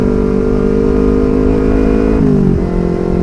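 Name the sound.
motorcycle with loud aftermarket racing exhaust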